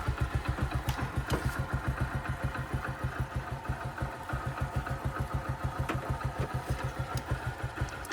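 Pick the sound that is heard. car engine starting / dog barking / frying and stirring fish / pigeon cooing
car engine starting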